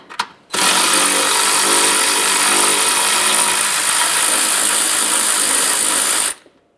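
A power ratchet spins out a washer reservoir mounting bolt on a 2009-2014 Nissan Maxima, a loud, continuous buzzing whir held steady for about six seconds, very close, then stopping abruptly.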